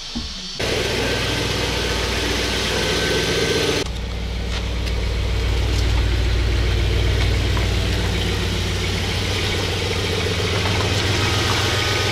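An Audi S6 C5 with a 4.2 V8 and automatic gearbox fires up and settles into a loud, deep idle, the engine catching abruptly after a short crank and rumbling steadily and close up, with a brief dip in pitch midway.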